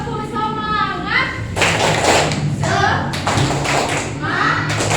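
Children in an elementary school classroom clap together in short rhythmic bursts amid lively voices and chatter, close and fairly loud.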